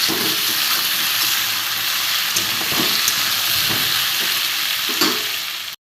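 Taro (kochu) and potato pieces frying in a pan, a loud, dense, continuous sizzle and hiss with occasional stirring knocks, very close and without speech.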